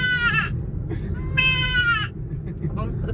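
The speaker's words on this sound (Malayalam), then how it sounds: "അതിൽ തള്ളയാടിന്റെ ശബ്ദം" A mother goat bleats twice in loud, wavering cries, with a fainter bleat between them, all over a constant low rumble.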